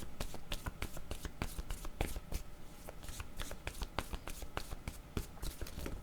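Tarot cards shuffled and drawn by hand, a rapid run of crisp riffling snaps and flicks, close and steady, with no voice over them.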